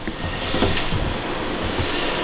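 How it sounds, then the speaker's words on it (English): A grinder runs inside a school bus being converted into a skoolie, a loud continuous rough grinding roar with rumbling low tones and scraping texture, steady throughout with no talk. "Grinding away."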